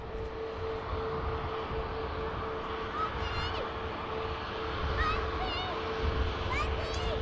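Ryanair airplane taxiing at Manchester Airport, a steady distant jet engine rumble with a constant tone, while people talk nearby and birds chirp intermittently.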